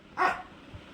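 A dog barks once, sharp and close, asking for biscuits, followed by quiet.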